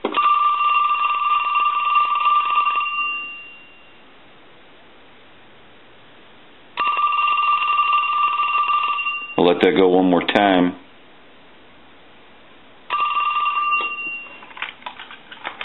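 An original Snoopy and Woodstock telephone rings during a test after repair: three loud, close bursts of rapid bell ringing separated by pauses, with a person speaking between them.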